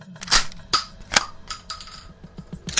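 Shotgun blast effects in a Shadows of Brimstone tabletop game, several sharp, punchy bangs at irregular intervals over a low rumbling background.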